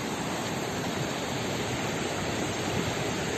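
Rushing river water pours down a steep drop through a narrow mountain gorge in Kyrgyzstan, a dense, steady roar close by with no pauses.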